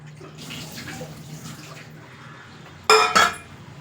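Half a litre of water is poured into a pot of beans and carrots for bisi bele bath, a sudden loud splashing gush near the end after quiet kitchen clatter.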